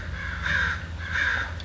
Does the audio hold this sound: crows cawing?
yes